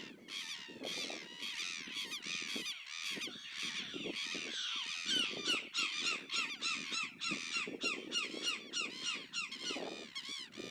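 Chimango caracaras and brown-hooded gulls squabble over a dead carp by a river, a continuous chorus of harsh squealing cries and squawks, overlapping and close, with constant rapid calls throughout.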